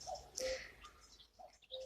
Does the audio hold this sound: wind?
no